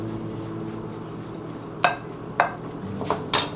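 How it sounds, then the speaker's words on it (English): Diced onion and sausage going back into a pot for homemade potato soup, heard as a few distinct clattering knocks of utensil and food against the pot over a quiet kitchen background, with no talking. "I'm going to go ahead and add the onion and sausage back into the pot"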